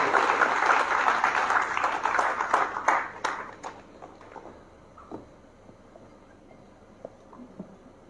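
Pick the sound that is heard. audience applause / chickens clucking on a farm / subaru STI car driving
audience applause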